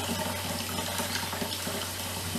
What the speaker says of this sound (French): je suis en train de rincer et de nettoyer la pulpe pour